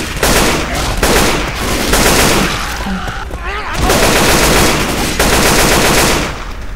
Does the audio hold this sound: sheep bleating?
no